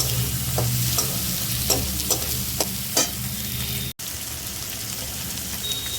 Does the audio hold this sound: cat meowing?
no